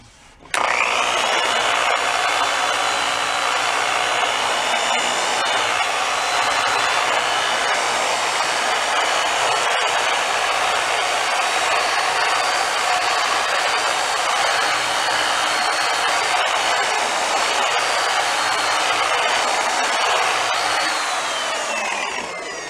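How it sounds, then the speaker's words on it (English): Buffing machine polishing a Camco snare drum shell with compound: a loud, continuous high whirring drone holding steady for over twenty seconds, close up, with no speech. "I'm not pushing on this machine. I'm letting the buffer do the work."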